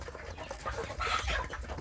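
Kampung chickens kept as breeding stock, with a rooster giving rough clucking and crowing calls amid general farmyard fowl noise, moderately loud and close, with no talk.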